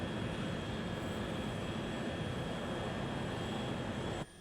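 Airplane engines hum steadily before takeoff with a broad whine and faint tonal lines, a constant cabin drone that cuts off abruptly near the end.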